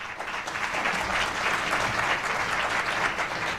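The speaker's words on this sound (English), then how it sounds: "the applause is not coming from these objective journalists assembled here" Sustained applause from guests at a press club luncheon, a dense, steady clapping from a crowd filling the room throughout.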